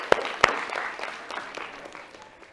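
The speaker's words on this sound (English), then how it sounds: "I think she deserves a round of applause." An audience in a university physics lecture hall claps. Two sharp, loud claps open a burst of applause that thins out and fades over a couple of seconds.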